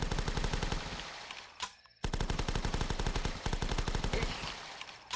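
Rapid automatic gunfire in the zombie survival video game The Last Stand, loud sustained bursts of fast repeating shots with a brief pause midway before firing resumes.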